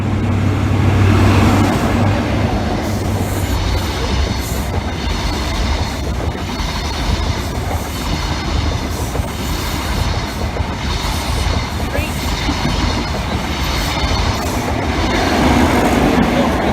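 An LNER HST high-speed train passes on the East Coast Main Line diversion via Lincoln, a loud, sustained roar with rattling, clickety-clack wheel noise throughout, close to the track.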